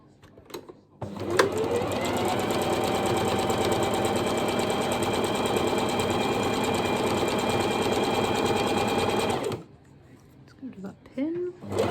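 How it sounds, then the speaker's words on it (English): A sewing machine stitches a seam on a soft toy ear at a short stitch length, running as one steady continuous burst of about eight seconds, close and clear, with brief sounds before and after. "I'm using a shorter stitch length because it's a toy"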